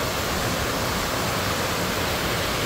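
A waterfall on the Erie Canal roars close by as a constant, full rush of falling water, steady and loud with nothing else heard.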